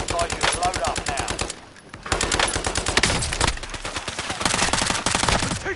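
Rapid automatic gunfire from the video game Warzone, loud bursts of closely spaced shots with a brief lull midway, then sustained firing resumes.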